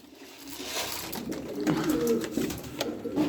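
Pigeons coo steadily and close by as they eat feed, a low throaty cooing running throughout with no talk over it.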